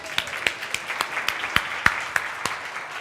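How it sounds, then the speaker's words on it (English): Scattered rounds of hand claps from an audience at the Kosovo Learning Summit, sharp separate claps arriving a few times per second at moderate level, with no talking. "Can we please get a big round of applause?"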